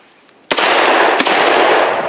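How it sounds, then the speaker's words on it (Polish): Two sharp, loud shots from a Taurus Judge revolver firing .410 birdshot at clay targets outdoors, the first at half a second and a second about 0.7 s later, each followed by a long ringing, noisy decay. "Spróbujemy troszeczkę do rzutek postrzelać."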